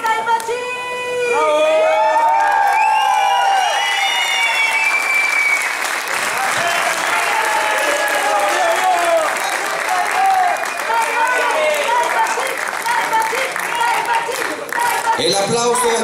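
Theatre audience at a cultural centre's anniversary concert night bursts into sustained applause with cheers and whoops, loud and dense, while a voice speaks over the crowd partway through.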